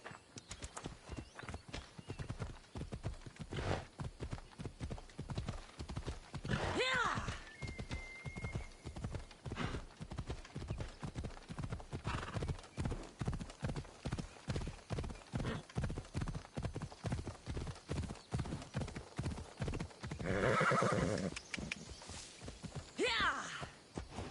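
Phobos, a horse in Assassin's Creed Odyssey, gallops with steady, rhythmic hoofbeats throughout, and two loud whinnies rise above the hooves partway through and again near the end.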